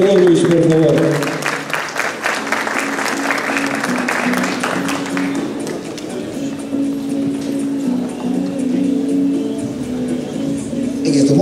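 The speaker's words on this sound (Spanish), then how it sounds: "Un aplauso para el señor Rurus, por favor." Audience applause at the Miss Teen Ancash 2016 beauty pageant, loud crowd clapping that continues under and around a voice speaking over a microphone.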